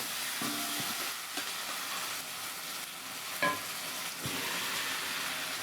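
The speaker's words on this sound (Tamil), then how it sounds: "பச்சை வடை போகிற அளவுக்கு லோ ஃப்ளேமில் வச்சு நல்லா வணக்கணுங்க" Elephant foot yam fry with masala, raw garlic and onion cooks on low flame in a pan, giving a steady close sizzle with a few brief stirring scrapes and clinks, with no talking.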